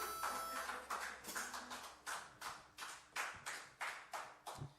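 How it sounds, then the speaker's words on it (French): Technicians applaud a band in an empty venue during a live lockdown concert, about ten distinct bursts of rhythmic clapping from a small group, steady and moderately close. "Première fois que nos techs nous applaudissent."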